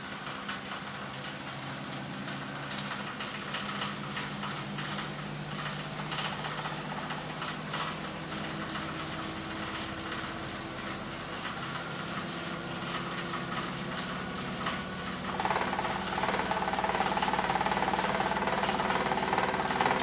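A Miele WED025 washing machine in its final spin, a steady mechanical hum that builds and speeds up, with light rattling from loose parts inside and a higher whine rising near the end.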